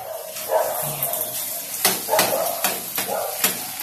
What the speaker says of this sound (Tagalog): Ngayon guys, magpipirito na tayo ng fried okra. Ito na guys. Nakapagpainit na ako ng mantika guys.